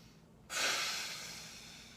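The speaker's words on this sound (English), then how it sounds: "breathe in through the nose" A single sharp inhale through the nose during a floor exercise, starting abruptly and then tapering off into a soft, breathy rush, close and alone.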